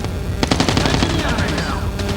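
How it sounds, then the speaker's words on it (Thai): Loud rapid bursts of automatic gunfire from the video game Call of Duty: Mobile crackle in quick succession, close and dense. "เสียงปืนมันอยู่ในแถวเนี้ยเชื่อไหม"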